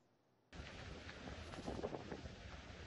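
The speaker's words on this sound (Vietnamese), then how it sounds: "mưa vừa ngớt nhưng gió vẫn rít liên hồi" During Typhoon No. 6 at Lang Co in Thua Thien Hue, strong wind roars into a loud, continuous buffeting rush that starts suddenly after a brief near-silence and builds slightly toward the end.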